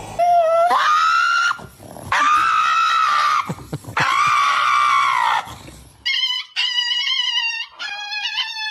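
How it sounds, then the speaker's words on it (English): A dog screams and wails dramatically while having its toenails clipped: several long, loud, drawn-out howling cries, then a run of shorter, choppy yelps close to the listener. "Apparently, overdramatic dogs."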